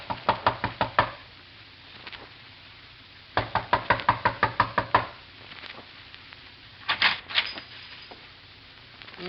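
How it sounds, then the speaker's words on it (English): Knocking at a door in an old radio drama comes as several quick bursts of sharp raps, a few rounds of rapid knuckle blows with short pauses between them, fairly close and clear. "A knock."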